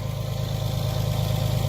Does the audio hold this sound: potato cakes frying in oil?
no